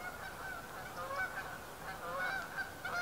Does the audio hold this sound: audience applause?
no